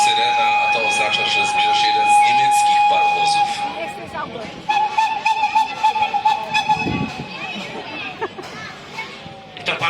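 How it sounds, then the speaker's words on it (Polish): A German series 41 steam locomotive at a steam locomotive parade in Wolsztyn gives a long sustained whistle, then rumbles and hisses amid crowd noise and children's voices, with a public-address voice talking over it. "Parowóz niemieckiej serii 41."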